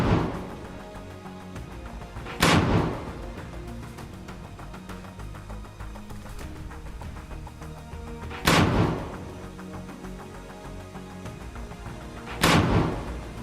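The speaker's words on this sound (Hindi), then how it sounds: "लॉन्चर में रॉकेट भरकर दनादन दाग रहे हैं" Rockets fired from a launcher by fighters hidden in greenery: three sharp, loud blasts a few seconds apart, each a sudden burst that fades quickly, over a steady rumbling background.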